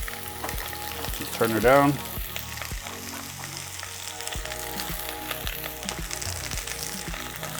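Onions for a Wagyu onion burger fry in a pan with a steady, close sizzle and crackle, briefly swelling louder as they hit the hot surface, while a voice speaks a few words.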